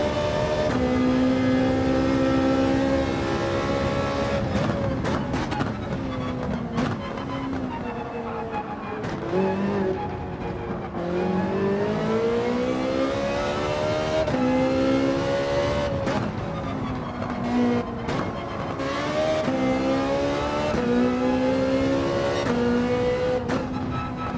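A race car in Gran Turismo 7 accelerates down a straight, its engine note climbing through the gears in repeated rising sweeps with brief dips at each shift, loud and steady throughout.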